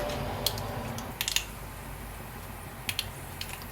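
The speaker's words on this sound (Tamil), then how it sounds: "கடுகு நல்லா பொரிய ஆரம்பிச்சிருச்சு." Mustard seeds popping in hot oil for a tempering, heard as sparse, sharp little crackles and snaps scattered over a quiet low background hiss, with a few clustered pops.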